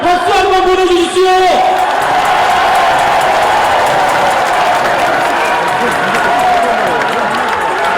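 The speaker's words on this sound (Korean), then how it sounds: "여러분이 장길찬의 개혁에 동의하시다면 박수 한번 보내주십시오" Crowd applause and cheering at a People Power Party national convention youth session, preceded by a brief amplified voice, then sustained loud clapping from a large audience.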